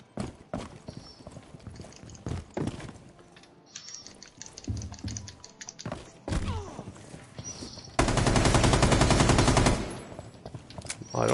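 Gunfire in a Terrorist Hunt round of a shooter video game: rapid bursts of shots and clattering hits come in irregular clusters, ending in a dense sustained volley near the end.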